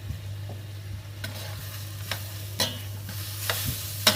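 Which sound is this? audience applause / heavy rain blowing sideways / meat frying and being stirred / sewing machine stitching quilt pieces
meat frying and being stirred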